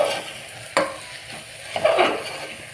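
Salt being stirred into vegetable biryani masala in a pot, with scraping spoon strokes and a faint background sizzle, a couple of sharper knocks standing out over about three seconds, close and moderately loud.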